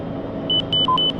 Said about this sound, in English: that sound right there is letting you know that you're passing over the inner marker